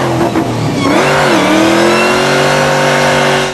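A 2024 Ford Mustang with a Whipple Competition supercharger kit revs hard nearby, its engine roar rising with a prominent high-pitched supercharger whine that climbs and holds over the exhaust.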